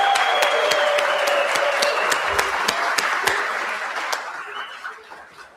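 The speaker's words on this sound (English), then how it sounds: "On 3, let's give them a round of applause too." Audience at the Intact Global 2026 conference breaks into a round of applause, a dense wash of clapping with a few sharp claps standing out, steady for several seconds before thinning and fading toward the end.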